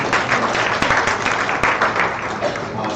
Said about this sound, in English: So clap hands for yourselves.